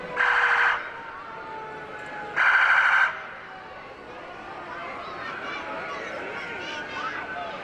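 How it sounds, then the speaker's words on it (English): Fire engines at a Christmas parade sound their sirens in two short, loud electronic blasts, followed by a fainter wailing siren in the distance, while people nearby talk. "the sirens are really loud, but I think the kids get a kick out of it"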